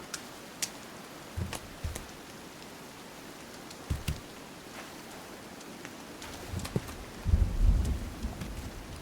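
Rain falls steadily in a video game, with scattered sharp crackles and a heavier rumble of thunder toward the end, heard alone without talk.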